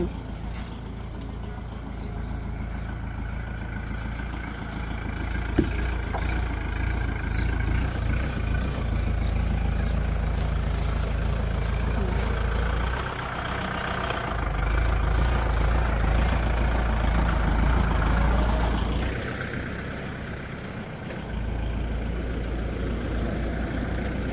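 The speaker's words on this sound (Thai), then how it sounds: "ใช้รถไถกับเชือกดึงต้น" A farm tractor engine drones low and steady while it pulls a fallen tree with a rope outdoors, rising and easing at times, with a sharp knock partway through.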